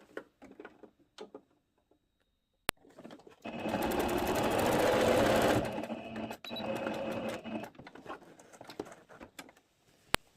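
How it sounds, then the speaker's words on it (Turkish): A sewing machine stitches the elastic channel on a two-piece elastic-waist skirt, running in close bursts of rapid mechanical patter separated by short pauses and light handling clicks. "Boş bıraktığım kısmı da dikeceğim."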